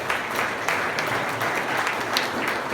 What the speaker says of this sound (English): You can applaud yourselves